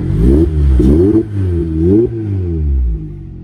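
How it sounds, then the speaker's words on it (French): A supercharged 2010 Lotus Elise SC engine revs hard several times in quick succession, loud and close, with rising and falling pitch before settling. "au volant d'une Lotus SC Supercharge Elise. Et ça fait un très joli bruit."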